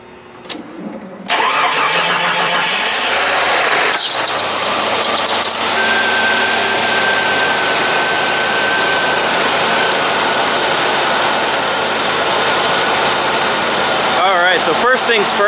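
A 1989 Jeep Cherokee engine cranks briefly, catches and starts, then settles into a loud, steady idle close by, with a thin squealing tone from a loose belt through the middle and a few brief rattles near the end.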